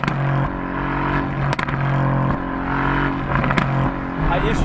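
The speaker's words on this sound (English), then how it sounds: "It's all about that exhaust sound." A 2018 Mercedes-AMG GT C Roadster's exhaust gives a loud, steady, deep engine drone with brief shifts in pitch, heard close up under someone talking.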